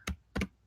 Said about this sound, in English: let me type that up here for you